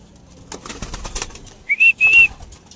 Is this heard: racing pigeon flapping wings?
yes